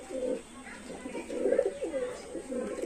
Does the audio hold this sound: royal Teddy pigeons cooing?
yes